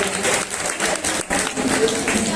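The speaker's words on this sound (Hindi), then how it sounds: "तालियां बजाकर" Applause from an audience at a Hindi poetry gathering (kavi sammelan), a dense, steady patter of many hands filling the short stretch without a break, with some voices mixed in.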